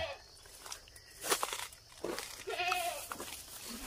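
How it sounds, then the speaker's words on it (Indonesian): A goat bleats a couple of times nearby in a village garden in Malino, Indonesia, wavering cries over outdoor background noise and shuffling steps. "Oh, itu bunyi kambing."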